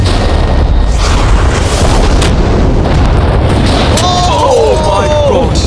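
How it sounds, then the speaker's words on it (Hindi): A loud, close explosion booms and rumbles heavily throughout, and excited voices cut in toward the end. "तेज धमाका था।"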